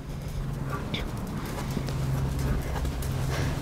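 A horse's hooves clip-clop steadily during a riding training session, a continuous even rhythm of muffled footfalls on soft ground, fairly close, with no talk over it.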